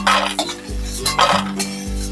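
A metal spatula scrapes and scoops fried bori (lentil dumplings) from a pan, several close clanking scrapes against the metal, with brief pauses between strokes.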